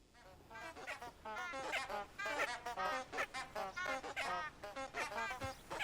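Poultry in Hogwarts Legacy set near the Forbidden Forest, a dense run of rapid, overlapping honking and clucking calls from several birds, loud and close with no talk over them.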